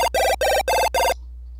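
A PSG chiptune sound effect played back at maximum speed: four rapid, loud buzzy square-wave bursts in quick succession, then it cuts to near silence.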